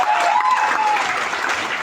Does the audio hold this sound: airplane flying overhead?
no